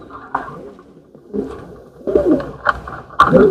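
Pigeons cooing nearby at a pigeon farm in several soft, throaty bursts that grow louder toward the end, with some faint background rustling.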